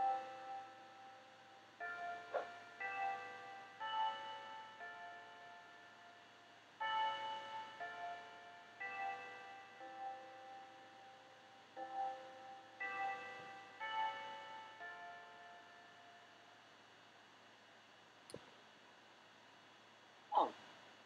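A Westminster-style chime melody plays as bell-like tones from a touchscreen phone, several four-note phrases in steady sequence, moderately faint and with no talk, followed by a couple of brief clicks near the end.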